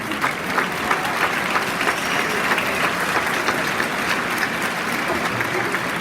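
Audience applauding at a Springfield High School class of 2025 graduation ceremony, steady dense clapping from a large crowd, sustained and fairly loud throughout with no voices over it.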